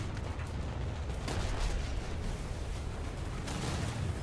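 Heavy cruiser Admiral Hipper loosing a broadside in War Thunder naval combat: booming gun blasts rolling out over a few seconds, with rumbling low-end reports and no talk.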